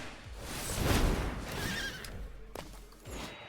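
Horse neighing from the Magic the Gathering Arena card game, one loud whinny rising and falling, followed by fainter hoof clops and small clicks.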